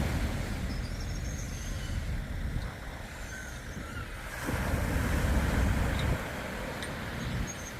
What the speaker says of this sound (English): what we have here is the Uncapped River flooding the beach at St. Lucia estuary